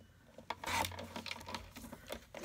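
Card stock for a handmade card is trimmed at each end, producing close scraping, rubbing rasps with a few soft taps and clicks.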